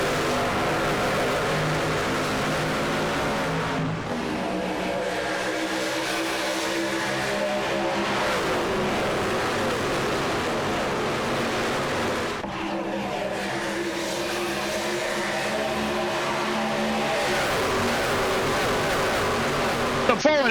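Race trucks roar around Auto Club Speedway after a restart, engines droning and swelling in a dense steady wall of noise, with a commentator talking over the racing.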